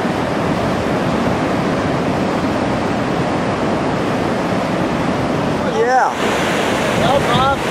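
Heavy roar of the waterfall at Grand Falls, Arizona, a loud constant wash of rushing water with wind buffeting the microphone, and a brief whistling sound near the end.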